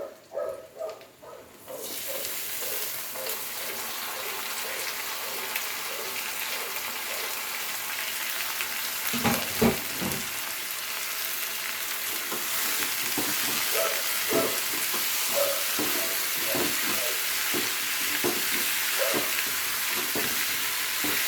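Potatoes and onion frying in oil with prawn shells, a loud continuous sizzle that starts abruptly after a few opening knocks, with intermittent scraping and clattering of stirring throughout.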